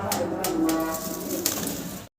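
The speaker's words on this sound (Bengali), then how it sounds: "দর্শক ভিডিও স্ক্রিনে আমরা শৌখিন কবুতর দেখতে পাচ্ছি" Fancy pigeons at a breeder's loft cooing in soft, low rolling calls, several birds close by, with faint rustling and no talk.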